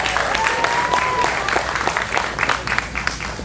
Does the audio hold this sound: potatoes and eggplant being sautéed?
no